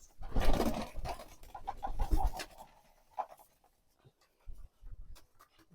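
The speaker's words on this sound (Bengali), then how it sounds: "এখন কবুতরগুলোকে ধান দিয়ে দিই" Domestic pigeons at a farm peck and scratch at paddy grain, producing a flurry of close tapping and rustling that thins into scattered soft pecks and brief coos with quiet gaps.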